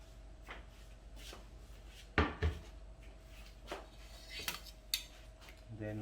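Boiled kamyas fruit being strained for sinigang broth in a home kitchen, heard as scattered clinks and knocks of a utensil against a strainer and pot, a few sharper clatters in the middle and a low scrape near the end.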